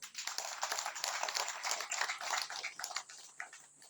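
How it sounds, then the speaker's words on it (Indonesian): Audience clapping at a village market unit inauguration in Sumba, a moderately loud burst of uneven individual claps that swells and then thins out toward the end. "Mari kita tepuk tangan untuk beliau."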